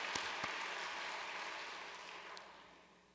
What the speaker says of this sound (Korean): 응원의 박수 부탁드립니다.